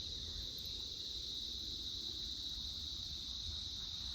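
Crickets in a jungle above a large farm keep up a constant high, shrill trill over a faint low rumble of wildlife, steady and fairly quiet throughout.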